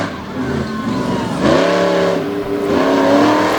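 A monster truck's engine revs loud and close during freestyle stunts at a Lake Erie show, its pitch climbing and falling in long sustained pulls through a stoppie and moonwalk.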